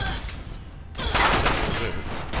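Gunfire in the video game Fallout 4, a dense burst of shots that swells after a brief lull and continues as a sustained rattle.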